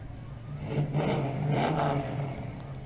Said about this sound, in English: Oh, there's a beautiful car coming our way.